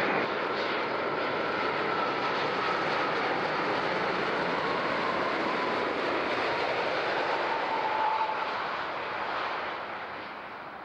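A passenger airplane lands on runway 14 at Zurich airport, its loud, steady jet roar filling the air before easing slightly near the end.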